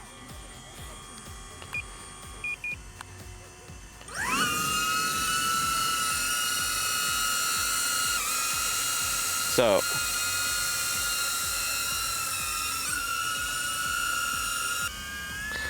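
A DJI Avata FPV drone spins up its motors and flies, a loud, steady high-pitched whine kicking in abruptly after a few quiet seconds with faint beeps, holding near and constant, with one brief word spoken.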